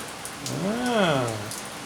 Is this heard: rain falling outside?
yes